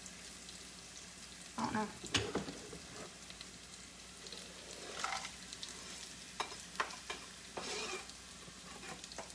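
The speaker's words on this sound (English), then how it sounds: "Now I'm going to add in the bacon." Bacon sizzles in a pan alongside mushrooms and garlic, a continuous frying hiss broken by several louder spatters and scrapes of stirring; someone briefly speaks under the cooking noise.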